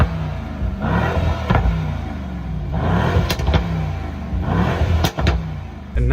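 A Mercedes Kugel S600 with over 600 horsepower revs up close in repeated deep surges, its engine rising and falling in three strong bursts with sharp transient pops between.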